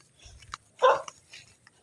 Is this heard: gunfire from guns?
no